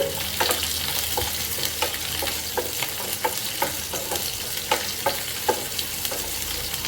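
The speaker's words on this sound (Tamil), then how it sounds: "எடுத்து வச்சுருக்கிற ஒரு பெரிய வெங்காயம் போட்டுக்கலாம் நல்லா வதக்கிக்கோங்க" Large onion sautéing in oil for Madurai thanni chutney, a steady sizzle and fry with regular scraping stir strokes every half second or so, close and even throughout.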